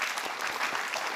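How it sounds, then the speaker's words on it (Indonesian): Audience applause at a science talk, a short, dense burst of many people clapping, steady and moderately quiet, with no speech on top. "Kita berikan tepuk tangan Bapak Ibu."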